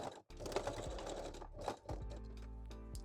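A sewing machine runs in bursts while backstitching the center back seam of a lingerie bodysuit made from a bra, a close, rapid mechanical whir with a brief pause near the start.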